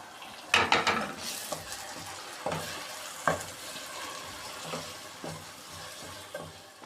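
Minced meat frying in a pan with garlic and ginger as tomato paste goes in, a steady sizzle broken by several sharp spoon-stirring scrapes and clatters, close and alone without voices.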